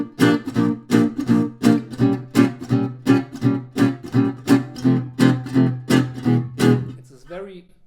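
Gypsy jazz rhythm guitar strums a tune: about fourteen crisp, evenly spaced chord strokes in a steady driving pulse, loud and close, then they stop and a brief fading ring follows.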